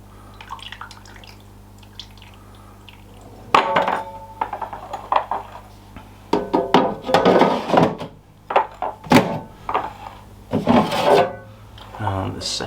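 An air fryer drawer holding cooked chicken wings is pulled out with clunks, scrapes and rattles of metal parts, loud and close, with a steady hum underneath and brief talk.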